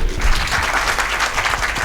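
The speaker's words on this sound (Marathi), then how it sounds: "जरा एकदा टाळ्या वाजून" An audience claps at a trilingual poets' gathering in Latur, a loud, dense burst of applause that runs steady throughout with no talking on top.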